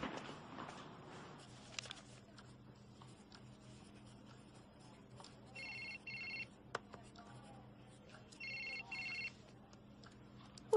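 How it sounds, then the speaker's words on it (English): A telephone rings in two short electronic bursts at a school, faint against a quiet, rustling room with occasional small knocks and scrapes, and nobody speaks. "Whose phone is that?"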